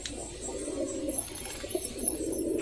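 Pigeons bought at the Beldanga market coo in soft, repeated low calls, close by and steady over a faint background, with brief higher chirps.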